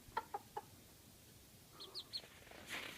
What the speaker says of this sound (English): These are Sana and Ayana's chickens.